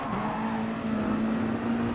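Group 2 race cars lapping the Dragon Trail Seaside circuit in the Gran Turismo Sport racing game, a sustained engine drone with a steady pitched whine held under continuous road noise, no talk.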